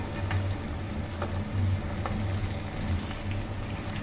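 An egg cutlet fries in a pan over low flame after being flipped, a steady, even crackling sizzle held close throughout, with faint low hum beneath and no speech.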